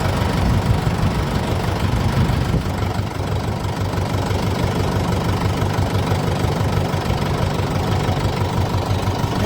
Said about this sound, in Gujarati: આ ટ્રેક્ટર લઈને અમે નીકળ્યા છીએ.